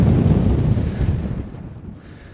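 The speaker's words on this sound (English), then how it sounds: "I don't know if you can hear it with all the wind, with the microphone" Strong wind buffets an outdoor microphone at a bleak, exposed site near old barracks, a loud rumbling roar that gradually eases toward the end, with no talking over it.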